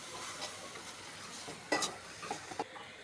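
Washed tamarind with mustard seeds, salt, turmeric and chilli powder frying in mustard oil in a wok for tamarind pickle, a quiet sizzle with a few sharp stirring clinks and scrapes, close and without speech.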